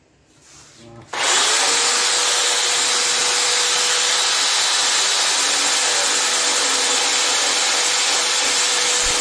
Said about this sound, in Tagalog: Gagamitan natin ng grinder.